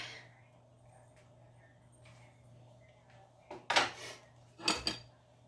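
During goulash cooking, a knife and dishes clatter on a kitchen counter in two short, sharp bursts of clinking and scraping. A quiet room hum runs underneath, with no talking.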